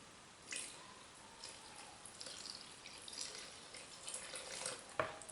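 Water running and dripping into a container while mixing liquid soap from lard, castor oil, coconut oil and lye, a soft steady pour with small splashes and a sharper drip near the end.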